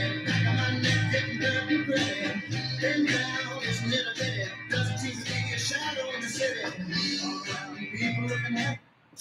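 A 1966 pop-rock song plays as a recorded excerpt with a full band and vocals, dense and continuous for about nine seconds before it cuts off abruptly.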